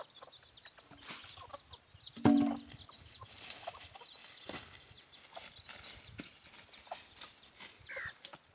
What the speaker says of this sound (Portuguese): E aqui estão as outras galinhas com outros pintinhos.